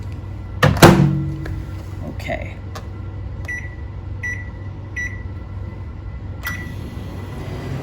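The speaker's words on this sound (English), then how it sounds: "So it's going to go in the microwave for 90 seconds." A microwave oven cooking a chocolate cake in a mug: a door thunk, then several short button beeps, then a steady low hum as it runs, with a brief spoken word near the start.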